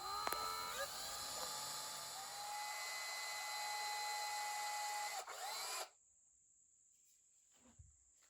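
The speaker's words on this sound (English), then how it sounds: "Using a 1/16 inch drill bit, I go ahead and pre-drill the holes in the horn body." A small high-pitched drill whines steadily while a 1/16 inch bit bores pilot holes into a horn body supported on a mandrel, a continuous close tone for several seconds before stopping abruptly.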